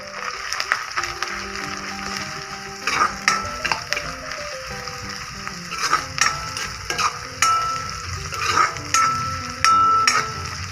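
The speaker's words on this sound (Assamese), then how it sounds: "এতিয়া মই ইয়াত হালধি, মিট মছলা, জিৰা পাউডাৰ আৰু গৰম মছলা গোটেইখিনি দি দিম। এইখিনি ভাজি ল'ম এতিয়া।" Turmeric, meat masala, cumin powder and garam masala frying in a pan: a low sizzle under repeated sharp clatters and scrapes of a spoon stirring against metal.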